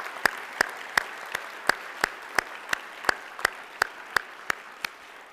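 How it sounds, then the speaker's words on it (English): Crisp, evenly spaced claps ring out one after another at an honors convocation, about three per second, sounding like a single steady rhythmic clapper rather than a full crowd. "Please join me in applause."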